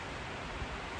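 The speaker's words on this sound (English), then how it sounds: "it's getting really, really windy" Strong wind rushing outdoors, a dense, steady broadband roar filling a brief moment with no other sounds.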